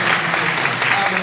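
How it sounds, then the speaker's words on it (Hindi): A church congregation claps together during an Easter Sunday sermon, dense steady applause filling the room, loud and close throughout. "ताली बजा के"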